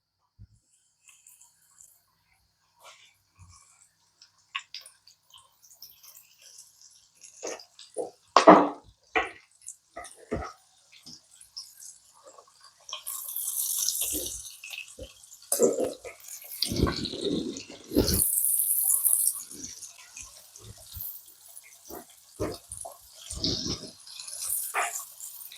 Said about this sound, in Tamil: ஸோ மக்களே நம்மளோட சிக்கன் வந்து அழகாக வந்து எண்ணெயில் போட்டுக்கிறோம்.